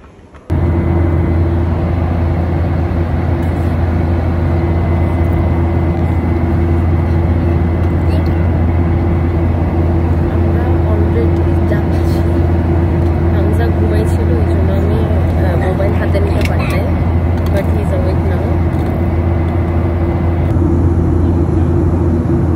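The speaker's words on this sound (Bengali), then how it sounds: "আলহামদুলিল্লাহ ব্যাংককে ল্যান্ড করছি।" Inside the cabin of an airliner landing in Bangkok, a loud steady engine roar with a deep constant drone continues throughout after a brief quieter start.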